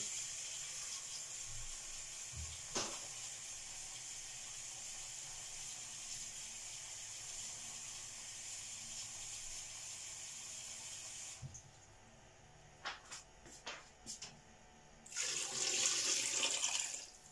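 Water poured from bowls into a saucepan in a home kitchen, a steady running, splashing wash for most of the stretch, then a pause with small clinks before a louder burst of pouring near the end.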